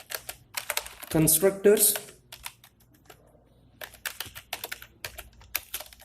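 Rapid clicks from a computer keyboard as code is typed, bursts of crisp keystrokes alternating with someone speaking briefly in between.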